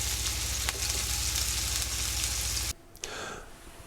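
Rolled chicken browns in a frying pan with a loud, steady, close sizzle that crackles continuously, then cuts off and leaves a quieter fizz.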